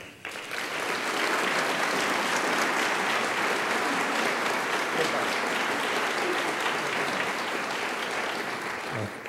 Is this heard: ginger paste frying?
no